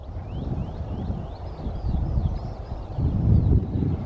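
Skylarks tweeting over open fields, a run of short rising chirps repeating in quick succession, faint above a constant low rumble of nearby traffic.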